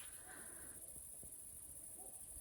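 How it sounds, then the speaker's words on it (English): Crickets and grasshoppers in a countryside garden at dusk, a faint continuous high-pitched chirring drone with a few soft low knocks beneath it. "I really love the sounds of crickets and grasshoppers"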